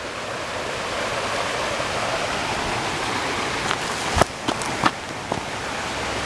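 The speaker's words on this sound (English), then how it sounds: "that's like a little waterfall right down there. A little teeny waterfall." A teeny waterfall with foam on a Rhode Island river near a mill dam gives a steady, close rushing wash of water, broken near the end by a few sharp knocks.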